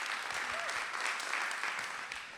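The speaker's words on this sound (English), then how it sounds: "Maybe one more round of applause." An audience gives a round of applause at an evening cultural event, a steady wash of many hands clapping at a moderate distance, fairly faint and continuous throughout with no voices.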